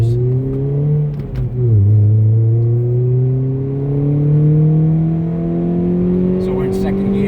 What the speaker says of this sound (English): we're just going to run it through the gears